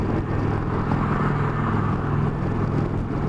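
An Indian Chieftain motorcycle cruising at 63 mph around 2400 RPM, a steady low engine drone blended with heavy wind rush, continuous and fairly loud with no talk.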